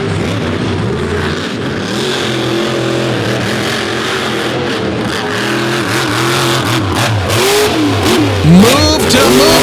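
A race car engine at an All Stars sprint car event at Lake Erie revs loud and close as the driver gets back on the throttle, rising and falling through several surges, louder toward the end.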